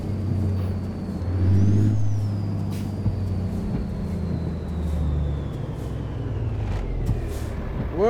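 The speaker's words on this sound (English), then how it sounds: "let's get on the brakes a little bit" Air brakes on a truck in American Truck Simulator, a hiss and release over a steady engine drone and road rumble, with a faint whine that slowly falls in pitch as the truck slows.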